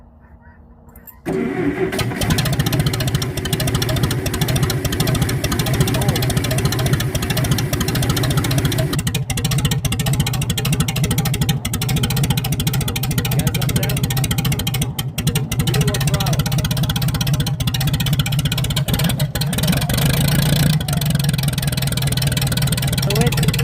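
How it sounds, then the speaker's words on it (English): A Case 440 engine cranks and catches after about a second, then runs loudly and steadily at a low, rumbling idle for the rest of the stretch, with its hydraulic pump working. "And it just pumps the fluid, and that's why it started running."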